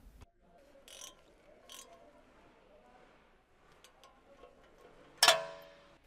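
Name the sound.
large ratchet tightening ABS sensor bolt with hex socket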